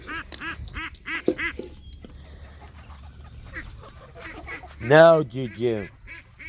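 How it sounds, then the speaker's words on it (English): A duck quacks in bursts of raspy, nasal calls, loud and close, with a short spoken phrase in between. "I know you never seen a duck like that before, but he's our friend."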